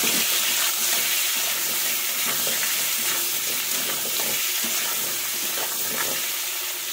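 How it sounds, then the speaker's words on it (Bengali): Potatoes fry in a pan with turmeric and salt, giving a continuous crackling sizzle with faint stirring scrapes, steady and close with no talking. "একটু হালকা ভেজে নিই।"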